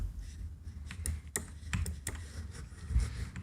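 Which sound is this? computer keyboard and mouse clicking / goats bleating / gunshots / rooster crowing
computer keyboard and mouse clicking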